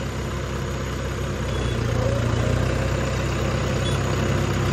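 A farm tractor engine runs steadily close by, a continuous low diesel rumble that holds an even level for the whole stretch with no clear revving.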